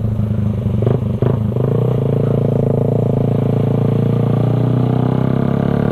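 A Suzuki Raider 150 carburetor motorcycle with a Creed exhaust pipe idles loud and close, a deep continuous throbbing rumble after a few quick blips of the throttle.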